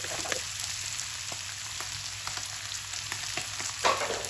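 Half a tomato goes into a hot frying pan while bitter gourd karela cooks, giving a steady broadband sizzle throughout with a louder hiss burst near the end as it hits the oil; no talking.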